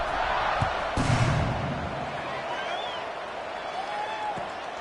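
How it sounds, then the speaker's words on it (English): A stadium crowd in the College Football 26 video game, Kentucky at Texas Tech, keeps up a steady, dense roar that swells slightly early and then holds at an even level throughout. "this crowd is buzzing after that last score"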